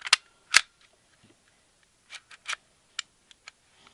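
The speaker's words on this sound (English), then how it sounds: "To put it back on, you just rack the slide back" Racking the slide on an airsoft Glock 17 pistol: a sharp close metallic clack, a louder second snap, then several smaller light clicks and ticks spaced over a few seconds, with no voice.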